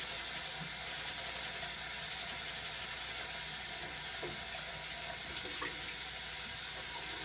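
Tap water runs steadily into a sink while scale is scrubbed off a vintage toy circus train, a constant hiss with faint scraping and clinks and no talking.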